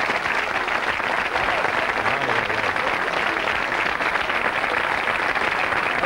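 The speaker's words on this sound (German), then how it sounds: "so viel Beifall am Anfang, das kann ich eh nicht vertragen" Sustained studio audience applause on a German television evening show, a dense, steady wash of clapping hands at constant loudness throughout with no speech over it.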